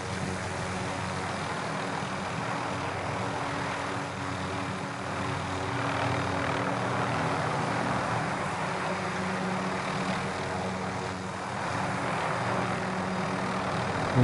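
A helicopter in a shooter video game drones steadily with a dense, rumbling engine and rotor roar that holds constant and loud throughout, with no talking.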